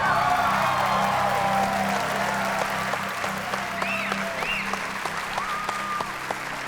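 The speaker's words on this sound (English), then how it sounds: "all these guys are clapping" Studio audience at a game-show taping applauds steadily throughout, a dense wash of clapping with a few whoops and cheers rising over it and some faint voices mixed in.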